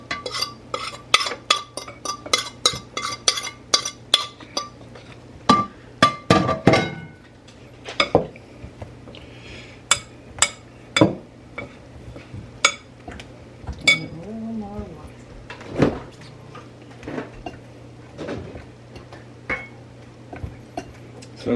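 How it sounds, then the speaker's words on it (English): A fork works soft butter into an apple pie crumb topping in a bowl, making a run of quick metallic clinks and scrapes, then slower, sparser taps. "So it's nice to mix this up with a fork."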